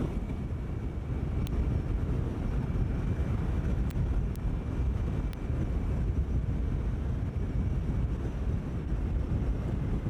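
Riding a TVS Jupiter ZX scooter on a rough road gives a steady, loud rush of wind buffeting over a low road and engine rumble, continuous throughout with no talking.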